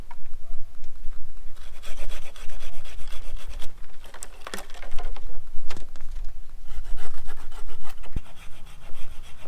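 A hand saw rasps back and forth through a pear tree branch during pruning, with uneven rough strokes, brief pauses and a rustle, close and fairly loud.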